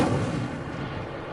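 An Incendio fire spell effect goes off as a single heavy, booming burst that quickly fades into a rumbling tail.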